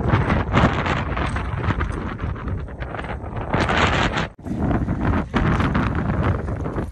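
Strong wind in Canada buffets the microphone in loud, continuous gusts, with a brief drop in the roar partway through.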